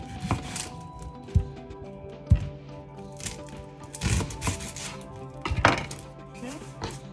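Knife chopping an onion on a cutting board in a home kitchen while prepping a large salad: irregular wooden thunks, some sharp and some softer, with quiet handling noise between strikes.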